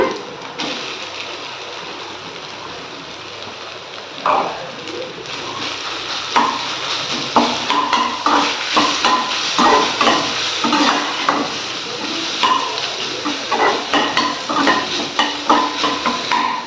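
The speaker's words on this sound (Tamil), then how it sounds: "இப்போ துருவி வச்ச வாழைக்காய் சேர்த்துக்கலாங்க." A spoon scrapes and clatters in a pan while grated raw banana is stirred in, with irregular knocks and taps growing busier and louder over time.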